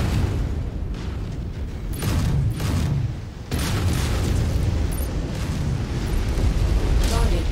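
Heavy, booming missile explosions and rumbling blasts pound in dense overlapping bursts in MechWarrior 5, loud and close, with battle mech combat noise filling the whole stretch.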